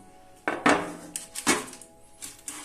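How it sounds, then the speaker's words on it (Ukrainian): An oiled baking tray lined with parchment is set down on a kitchen surface with a couple of close metallic clanks and light knocks, then quiet. "На його місце ми поставимо заздалегідь підготовлене дечко, застелене пергаментом та змашене олією."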